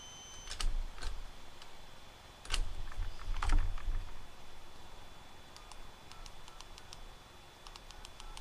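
Keys pressed on a US SB-22/PT touch-tone field phone give a short run of crisp clicks and faint tones, close and quiet, with bursts of handling noise.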